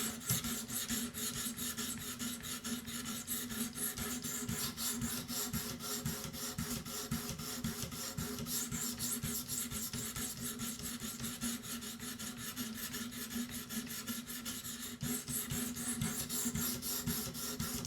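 A Benchmade 940 knife in MagnaCut steel is sharpened on a Work Sharp Pro with a 600-grit abrasive, giving a continuous close, rasping scrape with a rapid rhythmic texture that runs steadily and alone throughout.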